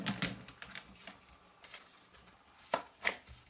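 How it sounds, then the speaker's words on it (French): Tarot cards being reshuffled by hand: soft, faint papery taps and flicks in short irregular bursts, heard alone in a quiet room. "je vais remélanger les cartes parce que j'aime bien quand c'est mélangé"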